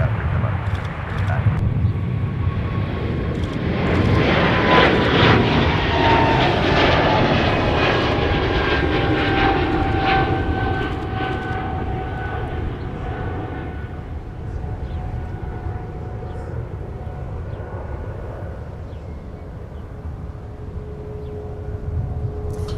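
An Airbus A220 departs off the south parallel runway at Minneapolis–Saint Paul airport, its loud jet engine roar building then slowly fading into the distance, with a voice talking over it.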